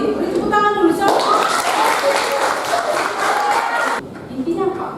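A classroom group breaks into sustained applause for about four seconds, many hands clapping close by with lively chatter mixed in, then the clapping stops abruptly and a few voices are heard.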